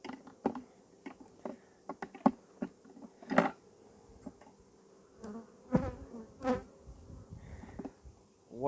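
Honeybees in an opened hive during a frame inspection, a faint, low buzzing bed under scattered close rustles and taps from handling the frames, with a few louder passes of bees flying near.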